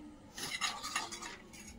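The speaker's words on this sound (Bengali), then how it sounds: "কাঁটা চামচ দিয়ে ভালোভাবে মিশিয়ে নিয়ে" Eggs beaten with a fork in a bowl for an omelette, a quick run of light metallic clinks and scraping strokes, close and fairly quiet, with no talking.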